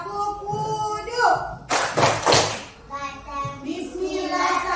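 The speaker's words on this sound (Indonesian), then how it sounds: "sama-sama kita lakukan tepuk wudu" A class of children doing a rhythmic clapping chant about wudu ablution, their sung voices mixing with bursts of hand claps and thumps, loud and close, with the chanting continuing around the claps.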